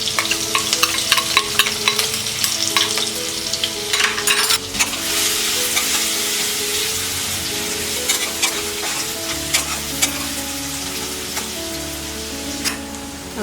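Cumin, green chillies and crushed garlic sizzle loudly in hot oil for paneer bhurji, a dense steady crackle and hiss with scattered spatters and occasional stirring scrapes, no voices.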